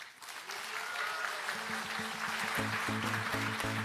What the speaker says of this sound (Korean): 김병기 원내대표님께 다시 한번 큰 박수 부탁드립니다